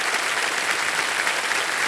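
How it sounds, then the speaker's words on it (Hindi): Steady, dense applause from a game show studio audience, loud and continuous throughout with no talking. "गिरे हुए इंसान के लिए जोरदार तालियां"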